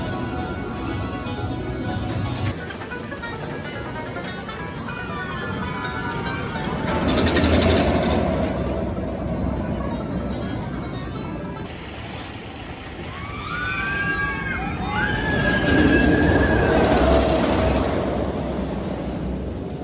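Diamondback roller coaster at Kings Island amusement park: a loud, steady rush of wind and track roar with swelling peaks, distant riders' screams and whistle-like tones rising over the noise.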